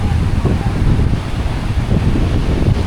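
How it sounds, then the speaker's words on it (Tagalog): Strong gusting wind on a rough-surfed beach, a loud, constant rumbling roar buffeting the microphone, with crashing waves blended underneath. "Sobrang hangin, kung mapapansin nyo."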